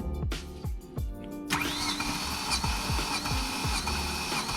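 A BMW M3 engine cranks over during a compression test, the starter giving a quick series of rhythmic chugs, then a sustained whirring tone with repeated even pulses, close and fairly loud.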